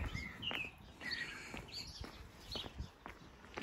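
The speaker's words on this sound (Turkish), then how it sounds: "Çalı kuşları var." Small wrens call from bushes at a forest edge, giving several short, high chirps and trills at moderate distance over faint background noise and a few soft footsteps.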